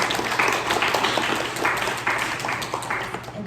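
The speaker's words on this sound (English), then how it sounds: "If we can just give a round of applause for our teachers." Audience at an 8th grade graduation ceremony clapping for the teachers, a steady, moderately loud spread of applause lasting the whole moment with no voices over it.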